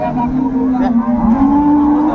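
A cow lets out a long, loud, close moo that holds its pitch for a couple of seconds at a busy cattle market in Dinajpur, Bangladesh.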